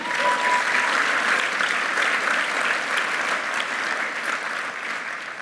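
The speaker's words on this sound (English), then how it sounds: "you can clap for scouting" Sustained crowd applause fills a speech venue at the Top Hands 2019 scouting event, thick, even clapping from a large audience continuing without a break.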